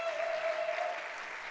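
An audience at a Bushwick Book Club music show gives steady, dense applause for a musician, a continuous wash of clapping with a faint tone running underneath.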